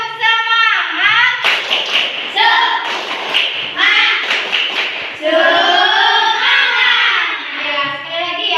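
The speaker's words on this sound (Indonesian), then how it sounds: "ibu punya tepuk semangat biar tambah semangat belajarnya" Schoolchildren in a fourth-grade classroom clap a rhythmic spirit chant in sharp bursts, their voices chanting along between a teacher's sung lines.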